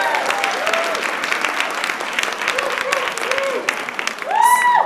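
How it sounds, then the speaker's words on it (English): Audience applause at an awards ceremony, a broad, sustained wash of clapping with cheers and a voice rising over it, swelling louder near the end. "Please give a round of applause to Marla Kaplowitz."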